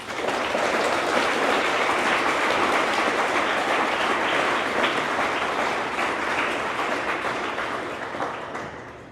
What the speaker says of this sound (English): please give a round of applause to your coaches and your players and your friends and your family